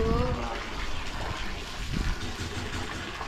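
A backyard pool's waterfall feature runs with a constant rushing gush of falling water, close and steady, while people talk over it.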